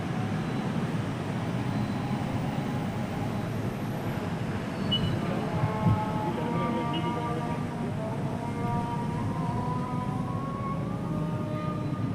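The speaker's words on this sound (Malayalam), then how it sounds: "ട്രെയിൻ കോട്ടയമായി കടന്നു പോകുന്നു" A Kottayam-bound train rumbles past nearby in a steady, loud roar, with a faint metallic whine rising over the noise.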